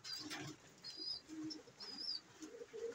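A pet bird named Berto gives soft, faint calls: a few brief high chirps over low cooing notes, spread across the whole stretch in a quiet room.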